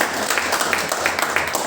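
Audience applause at a career counseling meeting in a hotel hall, a dense, even clapping from a crowd that stays loud and steady through the short stretch.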